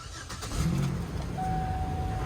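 A 2005 Chevy Equinox engine cranks and catches, then settles into a steady close idle with a thin whine above it.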